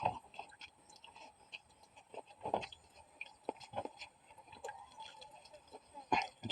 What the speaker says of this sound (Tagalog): Sarap na sarap ako kainin yung bawang kasi ano,